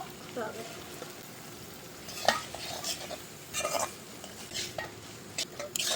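Maggi noodles being stirred with boiled vegetables in a pan, with soft scraping and light sizzling, a few sharper clinks of a utensil against the pan standing out near the middle.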